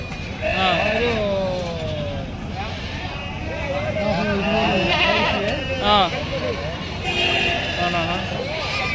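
Several goats and young kids bleat repeatedly at the busy Gudur livestock market, some close and some farther off, mixed with constant chatter.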